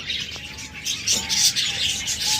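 Pet budgerigars or lovebirds kept in pairs chirp and tweet in a continuous high chatter, close and fairly loud, with no voices over them.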